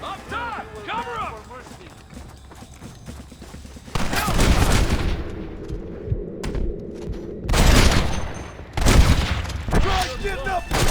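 Gunfire in Red Dead Redemption during a gate assault, with several heavy bursts of shots and booms between stretches of game dialogue and mechanical ambience.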